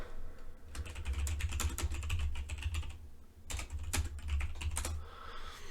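Rapid clicking of keys on a computer keyboard, close and fairly quiet, in quick irregular runs with two brief pauses.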